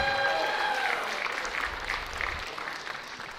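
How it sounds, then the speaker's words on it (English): Audience applause for a drum soloist at a school ensemble concert, a dense wash of clapping that stays steady and then eases slightly, with faint tonal ringing at the start. "let's give Cohen Williams a round of applause too"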